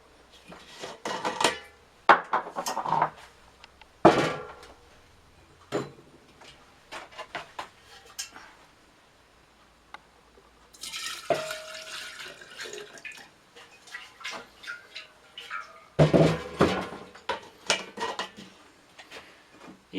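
Homemade grape brandy poured from a large bottle into a smaller container, with faint liquid trickling, glass clinks and handling clatter of vessels close by; quiet and intermittent, no talk.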